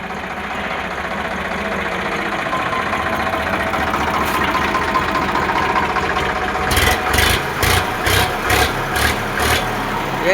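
A 2011 model farm tractor engine idles at a steady low chug, joined near the end by a rhythmic series of louder knocking pulses.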